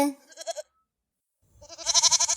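Two close goat bleats separated by a pause: a short quavering one, then a longer, louder tremulous bleat.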